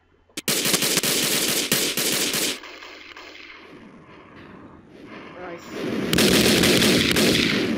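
In Roblox's Call of Robloxia, a submachine gun fires loud rapid bursts, one long stream at the start and another near the end, with a quieter stretch of talk between them.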